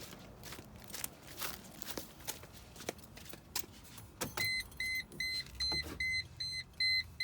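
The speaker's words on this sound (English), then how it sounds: "without the hazard switch, start the annoying beep" A 2003 Mercedes SLK 320's warning chime beeps in a quick repeating pattern over faint clicks and shuffling, fairly quiet and close.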